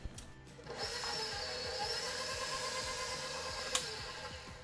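An electric mixer whirs steadily as milk is mixed into cupcake batter, starting with a short clatter and then running as a continuous mid-pitched motor drone with a slight bump near the end, and nobody speaks.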